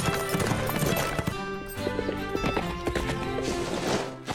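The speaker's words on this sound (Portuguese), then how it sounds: "Ótima cavalgada, Azteca." Horse hooves clip-clop steadily through a ride in a Horseland cartoon episode, loud and continuous under a busy musical score.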